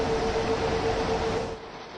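Steady rain hisses broadly over a Main-Spessart Bahn train route in Train Sim World 5, a loud continuous wash with a faint tonal hum beneath, easing slightly near the end.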